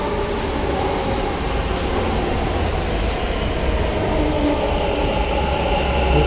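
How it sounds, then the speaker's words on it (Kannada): A metro train at a station rumbles loudly and continuously, its broadband roar and steady wheel noise filling the space with faint periodic clicks, no voices heard. "ಈಗ ತಾನೇ ಟ್ರೈನ್ ಬಂದಿದೆ,"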